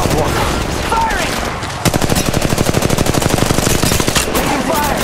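Rapid automatic gunfire in a shooter video game, with a sparser opening followed by a dense, steady burst of close shots, over faint game sounds.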